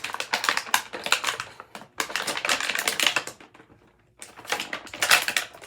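Close crinkling, clicking plastic as a cape is forced through the back of a McFarlane Toys DC Multiverse Deathstroke action figure, in dense bursts with a short pause before another crackly stretch.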